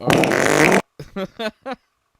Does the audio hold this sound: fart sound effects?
yes